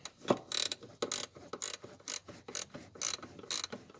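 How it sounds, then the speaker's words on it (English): A hand ratchet wrench clicks in quick, crisp bursts, close and fairly quiet, as bolts are turned during a wiper motor replacement on a 1991 Ford F250 7.3 IDI. "These ratchet wrenches are the best fucking thing ever."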